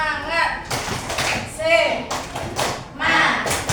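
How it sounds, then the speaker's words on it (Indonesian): In a classroom, a group of pupils performs a rhythmic spirit clap in short bursts of clapping while chanting along with their voices. "Ada yang tahu tepuk semangat? Tepuk semangat."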